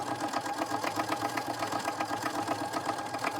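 A sewing machine stitches leaves into a mixed media art journal page, its needle chattering in a fast, even, close rhythm that runs continuously without pause.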